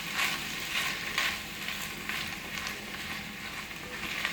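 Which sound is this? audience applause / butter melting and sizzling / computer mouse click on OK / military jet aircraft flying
butter melting and sizzling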